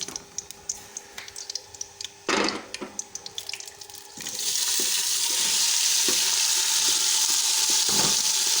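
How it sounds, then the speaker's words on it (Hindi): Fenugreek leaves going into hot oil with roasted cumin for aloo methi: light spoon clicks over a faint crackle, then a sudden loud, steady hiss and sizzle as the leaves hit the oil, continuing to the end. "इसको मेथी को मैं अच्छे तरीके से ऑयल में पहले फ्राई कर लूँगी"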